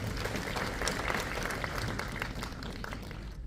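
Steady applause from a large crowd at an official judicial event with a Chief Minister, dense and continuous, fading slightly toward the end.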